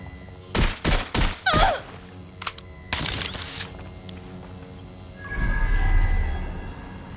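Gunfire from the video game Watch Dogs Legion cracks out in several rapid loud bursts, followed by a lone shot and a longer volley, then a low rumbling swell.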